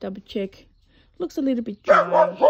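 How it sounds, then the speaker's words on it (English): A dog barks at someone walking past in a garden, a few short barks mixed in with someone talking nearby. "He's barking because somebody's walking past."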